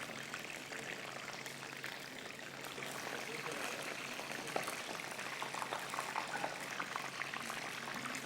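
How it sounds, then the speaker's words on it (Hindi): Chicken wings bubble and crackle steadily in oil over a low flame, a dense, continuous frying hiss that stays even and fairly close throughout, with no voices. "साथ साथ हमारे क्रिस्पी विंग्स भी फ्राई हो रहे हैं।"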